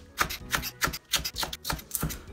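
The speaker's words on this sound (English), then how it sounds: "I'm just gonna cut this in diagonal because I think they look kind of neat like that." A knife cuts a scallion diagonally on a cutting board, about eight crisp, evenly spaced chops in a steady rhythm, close and clear with no talking.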